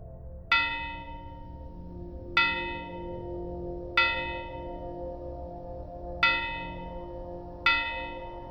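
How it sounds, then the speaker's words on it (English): Graveyard bell rings five times at slow, slightly uneven intervals, each bright clang decaying into a long resonant hum over a low background rumble. "Then I started to hear grave bells ring."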